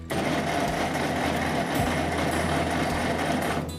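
A flooded 8N tractor engine runs loudly and steadily up close, a rough, continuous mechanical clatter without pause.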